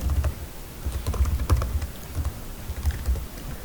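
Quick, uneven keystrokes on a computer keyboard as a message type name is entered, a soft close clatter of keys with a dull low thump underneath and no speech.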